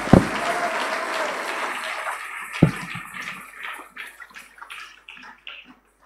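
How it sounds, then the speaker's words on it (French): Church congregation applauding together, a dense wash of clapping that fades away over several seconds with scattered claps trailing off at the end. "Applaudissons encore le Seigneur notre Dieu."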